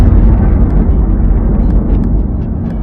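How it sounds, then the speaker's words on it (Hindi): A huge, loud explosion sound effect depicting the birth of the sun: a deep, sustained roaring rumble that holds steady for several seconds and fades only slightly, with no voices. "बीच के इस भयंकर दबाव के कारण एक विशाल विस्फोट हुआ"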